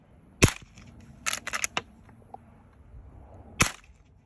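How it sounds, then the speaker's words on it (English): Several sharp shots from a Marlin Model 1897 lever-action rifle in .22 fired downrange outdoors at targets, one crack, then a quick burst of four, then another single shot after a pause. "Let's go ahead and put a few more rounds down range."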